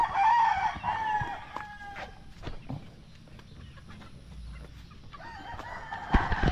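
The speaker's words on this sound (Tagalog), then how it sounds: "Yan ang mga native chicken natin." Native chickens on a farm give loud crowing and clucking calls up close, with a rooster's drawn-out crow at the start, scattered clucks through the middle and another burst of calls at the end.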